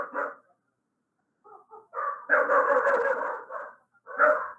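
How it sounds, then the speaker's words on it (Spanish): A small dog barks in short, close bursts, with a brief pause before a longer run of yaps and a final bark, heard alone without talk. "Mi perrito está en su paraíso ladrando."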